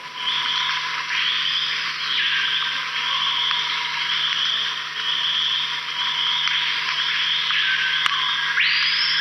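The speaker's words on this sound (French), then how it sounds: "Et voilà l'oiseau, le piot hurleur." Screaming piha calling in the Amazon rainforest: a loud, repeated ringing whistle phrase, steady and prominent over a constant insect drone, with a stronger, nearer call rising at the very end.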